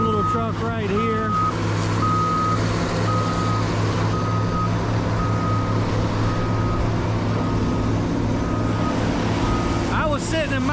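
A truck reverses across a muddy landfill tipping floor after two days of rain. Its backup alarm beeps in a steady, evenly spaced series over a loud, constant engine rumble, and voices are heard near the start and again at the end.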